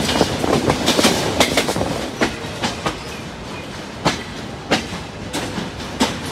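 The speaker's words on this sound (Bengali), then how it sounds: "আমাদের এই ট্রেন এখন ডিরেক্ট রাজশাহী গিয়ে তার যাত্রা শেষ করবে।" The Dhumketu Express runs on the rails toward Rajshahi, with loud, close, rhythmic clickety-clack wheel beats over a constant rumbling roar and no voices.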